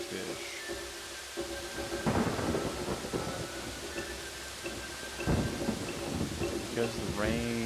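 Thunder rumbles and rolls through steady rain in a Yonder thunderstorm, with a couple of heavier rumbling swells over a constant hiss of rainfall.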